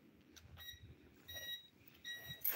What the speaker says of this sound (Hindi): ये बीप बीप क्यों कर रहा है।